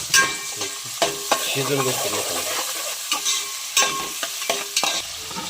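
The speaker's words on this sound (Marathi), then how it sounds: "कांदा टाकूया कांदा शिजवून घेऊ मस्त" Onions fry and sizzle in a pan while a spoon stirs them with repeated scraping strokes, loud and close, with no talking, as a spiced crab curry is being prepared.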